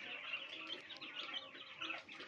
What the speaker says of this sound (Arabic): سامعين يا بنات زقزقته؟ ما شاء الله صوته جميل قوي